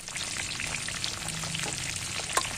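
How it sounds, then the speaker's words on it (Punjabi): Pieces of ridge gourd (tinda) frying in hot oil, a dense, steady sizzle heard up close with no talking. "ਇਹ ਸਾਰੀਆਂ ਤਲ ਲਾਂਗੇ ਆਪਾਂ"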